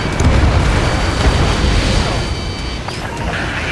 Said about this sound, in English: Enemy rockets have hit Stonehenge.